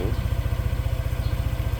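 A DNA Motors UHR125 motorcycle engine idles close by with a steady, rapid low thumping pulse and a light mechanical clatter, heard alone.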